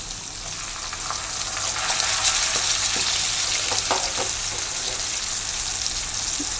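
Nanga fish frying Kerala style in a pan, a steady loud sizzle with bubbling crackle and a few soft stirring clicks running through the whole stretch, no talk.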